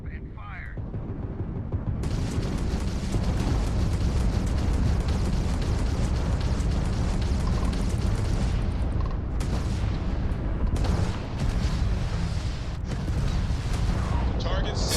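Ship weapons fire and explosions in the Starfield space combat game, a dense, continuous roar of blasts and booms that runs loud for most of the stretch after a brief quieter start.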